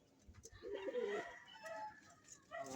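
Pet pigeons in a fancier's loft give soft, throaty coos with short rumbling bursts and a few flutters. The sound is close but faint, with no talk over it.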